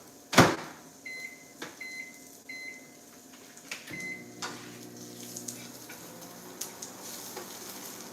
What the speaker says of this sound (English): So we're gonna let this go in the microwave.